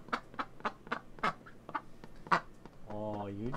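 A chicken quacks like a duck at the Old School RuneScape Easter event, with a quick run of short quacks, one per beat, then a longer wavering call at the end, mixed with a voice.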